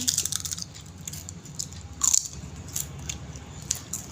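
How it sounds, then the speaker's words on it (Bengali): Someone bites and chews fried papad close to the mic, giving sharp crisp crunches at irregular intervals over a quiet background. "বন্ধুরা আমি খাচ্ছি"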